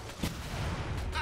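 A single sharp gunshot from the zombie video game Dead Rising 4 on Xbox One cracks out early, over a dense, noisy game background.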